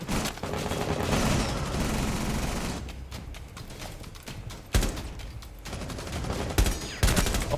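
Dense gunfire from a Rainbow Six Siege match: sustained bursts of automatic fire with sharp overlapping shots, a few abrupt gaps and renewed volleys, loud and close throughout.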